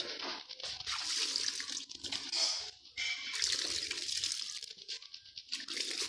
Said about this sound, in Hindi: इस पर हम लोग पानी पिलाएंगे।